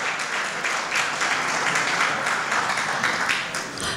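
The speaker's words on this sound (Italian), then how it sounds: "Li accogliamo qui con un applauso." Applause from an audience at a film festival award presentation in Basilicata, Italy, continuous dense clapping heard up close and fairly loud for the whole stretch.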